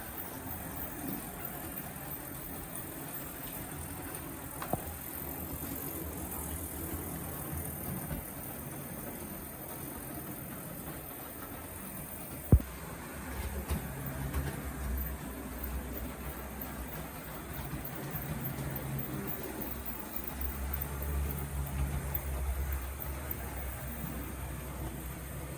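A Lima model diesel shunter locomotive runs over the track points, pulling its wagons. It makes a faint, steady mechanical rumble with one sharp click partway through.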